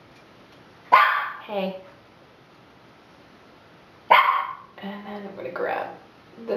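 A dog barks indoors with a couple of short, sharp outbursts spaced a few seconds apart, fairly close, while a person speaks briefly nearby.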